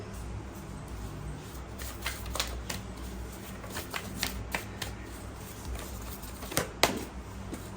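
Tarot cards are shuffled by hand, giving a run of crisp riffling snaps and soft slides, close and fairly quiet, with a few sharper clicks near the end.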